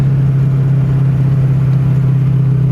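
A 1969 Ford Mustang Mach 1 engine runs steadily up close, with a loud, even low drone and no change in pitch.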